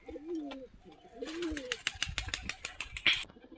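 Pigeons, including a Fulshira male, coo low in the background while wings flap and clatter in a burst of rapid flutters near the end, fairly close.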